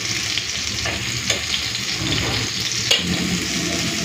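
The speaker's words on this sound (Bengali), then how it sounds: "এই তেলের মধ্যেই পোস্ত দিয়ে ভেজে নেব" Ridge gourd frying in oil with poppy seeds sprinkled in gives a loud, close, continuous sizzle with small crackles and a few brief stirring clicks.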